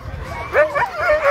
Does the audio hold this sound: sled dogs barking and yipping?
yes